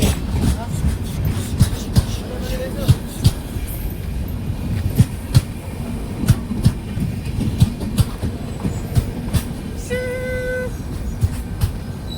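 A train passes near Ankola, a steady heavy rumble with a regular clickety-clack of wheels over rail joints and a brief squeal, loud and close throughout.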